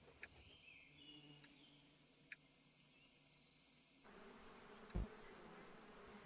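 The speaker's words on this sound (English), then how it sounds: "let's calm these bees down" Bees buzz at a hive in the video game Apico, a faint steady insect drone with a few soft clicks and a brief thump near the end.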